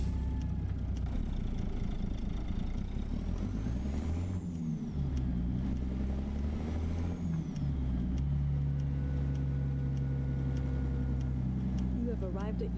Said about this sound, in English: what engine sound are you running, Sean?